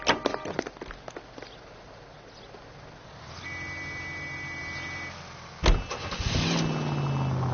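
A car door thuds and footsteps pass, then an engine cranks, catches and settles into a steady idle. A second thump comes before the engine revs up and pulls away, with no one talking.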